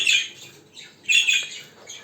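Parrot chicks squawk in harsh, raspy bursts, two louder clusters close by with quieter calls between, repeating irregularly over about two seconds with no voices.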